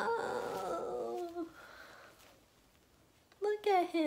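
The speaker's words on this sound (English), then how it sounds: "Y'all want to meet my dog?" A dog whimpers and lets out a wavering howl indoors, close by, with a brief quiet gap before higher, rising whines at the end.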